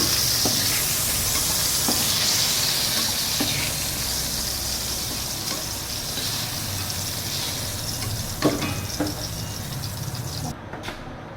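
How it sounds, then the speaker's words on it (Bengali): Potatoes frying in oil in a pan, a continuous close sizzle and hiss with occasional soft stirring knocks. "এখন আলুটা ভেজে নেব।"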